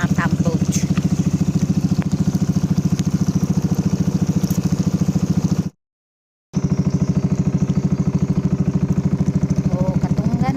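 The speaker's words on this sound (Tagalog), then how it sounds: "The best part of the program is sitting in front of the pump boat." A pump boat engine runs steadily at sea in a strong, continuous rhythmic chug with a crackly mechanical edge, briefly cut to silence midway before resuming at the same level.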